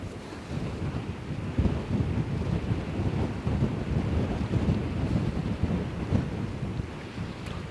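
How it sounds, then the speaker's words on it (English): Wind buffets the microphone on the Westerschelde shore in the Netherlands, a steady rumbling roar with low gusty thumps lasting the whole stretch, with faint surf beneath and no talking. "The moment I'm standing in the wind, it's chilly"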